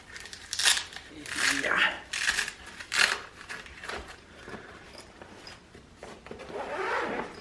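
Double zipper on a light storage case being pulled open, several short raspy zips in bursts with handling rustle between them.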